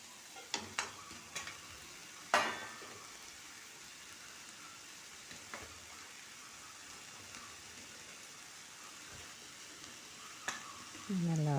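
Ginger garlic paste sautés quietly in a pan for mutton kulambu, a soft low sizzle with a few scattered clinks and scrapes of stirring, one sharper knock partway through.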